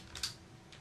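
Keys tapped on a computer keyboard while entering text into a form field in Photoshop, a brief cluster of light clicks followed by one more soft click, quiet and close.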